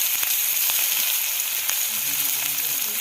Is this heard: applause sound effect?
no